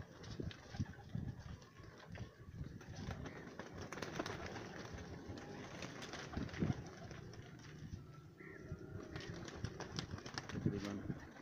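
Pigeons in a loft coo and flutter amid bustling activity, soft wing flaps and low calls mixed with shuffling and handling noise, while someone talks over them.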